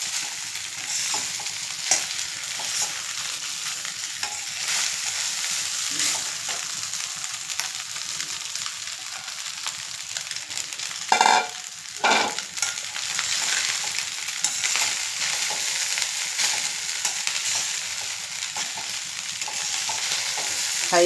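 Egg fried rice stir-fried in a pan over a high flame, with a steady loud sizzle running throughout and scraping, clattering stirs breaking through now and then, no voices.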